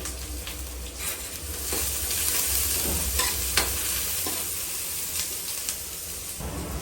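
Chopped garlic frying with onions in a pan for chicken leg and lentil khichuri, a dense continuous sizzle with scraping stirs and a low background hum, close, no talk.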